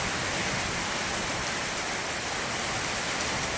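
Heavy rain pours down during a windy storm in a village, a dense, even hiss of rainfall with no breaks, close and loud, with no voices.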